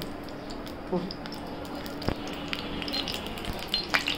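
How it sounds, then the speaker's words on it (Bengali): Low crackle and sizzle of oil warming in a wok, with scattered small pops and utensil taps, fairly close and steady. "এই যে তেল দিয়ে দিল কড়াইতে।"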